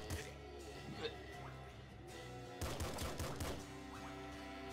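Rapid gunfire in the video game Nuclear Throne, a dense stream of shots with a louder burst in the latter half, steady and close under game music.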